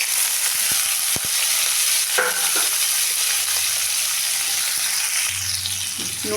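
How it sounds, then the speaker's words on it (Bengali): Vegetables fry in a pan with a steady broadband sizzle, broken by scraping and stirring clatter of a utensil, close and continuous with no talking. "সব সবজিগুলোকে ভেজে নেব।"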